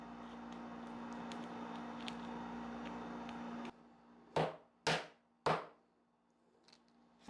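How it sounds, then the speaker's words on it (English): A chisel cutting a line into the wood of a buffet lands three sharp, close strikes about half a second apart after a stretch of steady background hum, then quiet. "I'm doing it with the chisel, it just makes a straighter line than my hand cut."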